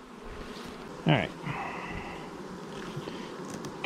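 Honeybees from a swarm trap buzz faintly and close by as a frame of them is lowered into a 10-frame hive, with a short handling knock and a quick spoken remark.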